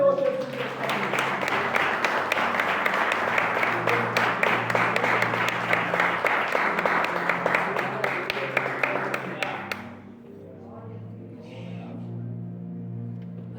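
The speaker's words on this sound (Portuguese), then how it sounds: "Então vamos ali na salva de palmas para o Senhor Jesus Cristo." A church congregation breaks into sustained, dense applause in praise of Jesus Christ, loud and steady for about ten seconds before cutting off. Quieter murmuring and faint voices follow.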